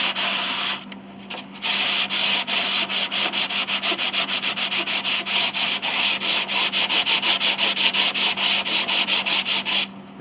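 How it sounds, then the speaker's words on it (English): Sandpaper rubbed over a wooden piano bridge during a Mason & Hamlin grand rebuild, loud close strokes in a steady rhythm of quick back-and-forth passes with a brief pause early on, no voices. "Here, I'll sand some more. It helps if you have new sandpaper too."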